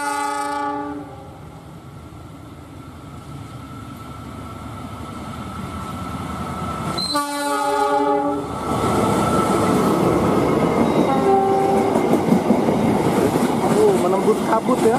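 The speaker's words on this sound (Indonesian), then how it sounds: "detik-detik kereta keluar dari dalam kabut" A train's horn blares in long loud blasts as the train emerges from fog and rumbles close by, the roar of the passing cars building and continuing after the horn stops.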